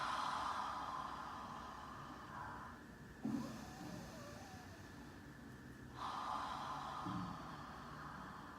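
Deep yoga breaths during a back and shoulders session, drawn in through the nose and let out through the mouth, come as slow, close, airy swells separated by short pauses, with no talking.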